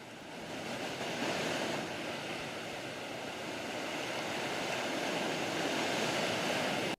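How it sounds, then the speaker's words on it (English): Steady roaring surf of ocean waves, a broad continuous wash of water noise that swells slightly and holds at a moderate level. "Natural sounds like ocean waves"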